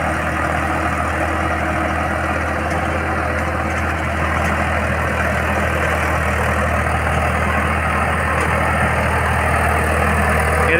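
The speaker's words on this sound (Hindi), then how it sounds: "ये देखो, ये ट्रैक्टर है फार्म ट्रैक 45" A Farmtrac 45 tractor engine idles steadily with a constant low rumble and mechanical hum, loud and close, unchanging throughout with no talk.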